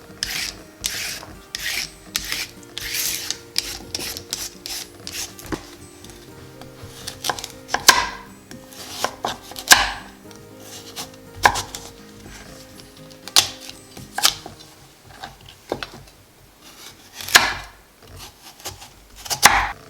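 Knife chopping a carrot into fine cubes on a board: a long run of sharp, close taps in quick irregular bursts with short pauses between, with no talking.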